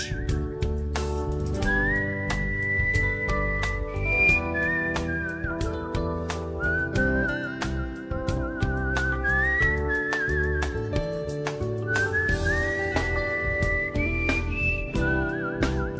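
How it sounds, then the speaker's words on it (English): A person whistles a melodic tune alone, clear and close, with sliding held notes over a backing of steady music and percussive beats throughout. "Beautiful whistle, right?"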